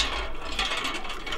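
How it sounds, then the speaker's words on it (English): A hand water pump is worked at a nearly dry borehole, giving a continuous rasping, grinding mechanical scrape with a loose repeating rhythm, close and fairly loud. "we just found these people pumping some water literally in the middle of nowhere"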